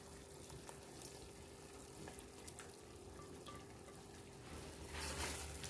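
Chicken being stirred back into a tikka masala sauce in a pan, giving a soft, steady sizzle with faint scraping and stirring clatter throughout, swelling slightly louder near the end.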